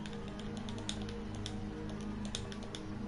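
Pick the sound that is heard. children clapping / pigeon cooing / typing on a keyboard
typing on a keyboard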